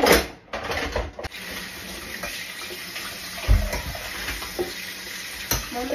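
Water running steadily from a tap into a sink during washing in a home kitchen, a constant close rush with a few clinks and bumps, no talking.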